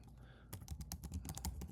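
Keys clatter on a computer keyboard in a quick, uneven burst of close, crisp clicks after a brief quiet start, with no talking over them.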